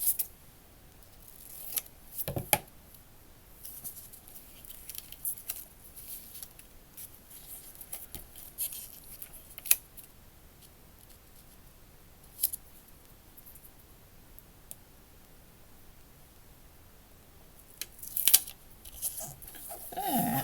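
Scissors trimming a paper filmstrip for handmade photo-negative ephemera, a handful of sharp, separate snips spaced out over a quiet background, close and distinct, with one brief spoken word.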